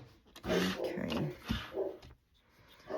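A dog barking indoors in short, loud bursts, a few sharp calls near the start and middle followed by quieter pauses, with some low background noise.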